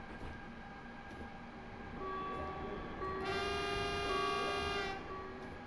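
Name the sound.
train driving in Train Simulator video game, Munich-Garmisch route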